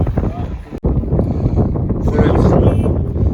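Wind gusts buffet the microphone at an outdoor used-car market in Antalya on a rainy day, a steady rushing roar with a sharp thump partway through, while people talk faintly beneath.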